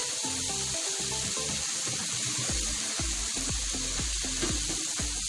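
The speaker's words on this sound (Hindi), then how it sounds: "अब यहाँ पे मैं चावल डालूंगी इसमें।" Rice goes into a pan of Chinese fried rice seasoned with soy sauce, and it fries with a constant close sizzle broken by a run of regular scraping stirs.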